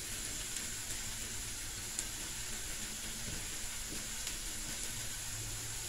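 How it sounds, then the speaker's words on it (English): Chopped garlic sizzles in hot olive oil in a pan, a steady close crackling hiss that holds evenly throughout with faint scattered pops. "you can get the beautiful fragrance of garlic frying"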